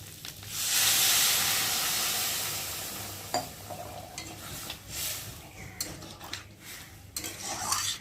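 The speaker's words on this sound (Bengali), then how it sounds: "জলটা একটু পরিমাণ মতো দিলাম দিয়ে একটু ঢাকা দিয়ে ফুটিয়ে নেব" Fish roe curry with potato simmering after water goes into the pan: a loud hiss of steam and sizzle at first, easing into quieter bubbling with scattered clinks and scrapes of a utensil, no voices.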